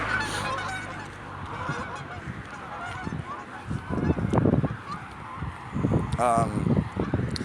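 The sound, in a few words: seagulls calling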